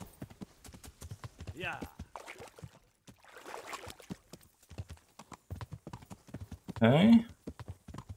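Hooves clop steadily during horseback riding in the video game Kingdom Come: Deliverance, soft and rhythmic, with a brief louder rustle near the end and someone speaking briefly.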